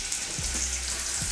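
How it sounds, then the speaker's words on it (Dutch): Garlic fries gently in a little oil in a pan, giving a steady, soft sizzle with a couple of low knocks from the pan. "Daar gaan we een beetje knoflook aanbakken met een klein beetje olie."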